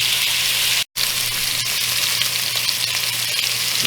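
Pork country ribs sizzle and brown in a hot pan for stew, a steady loud frying hiss with crackles throughout, broken only by a brief gap near the start.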